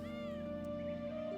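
A cat meows in the video game Children of Morta, one drawn-out, clear meow rising and falling, heard faintly over a steady tonal music hum with no talk.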